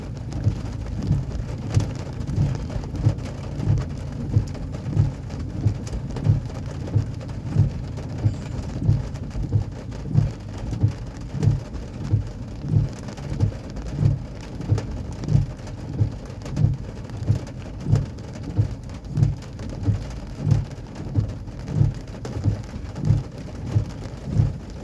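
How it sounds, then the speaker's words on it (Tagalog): Heavy rain pours steadily over a low rumbling background while driving, a dense continuous hiss with a regular rhythmic thumping pulse running throughout, with no voices. "Ayan, umuulan."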